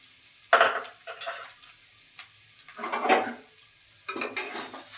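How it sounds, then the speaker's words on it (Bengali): Spice masala with coriander and cumin powder being stir-fried in a pan for a paneer roll, heard as a few separate bursts of utensil scraping and stirring against the pan with a soft sizzle between them, close and moderately loud. "ভালো করে মশলাটা কষে নেব।"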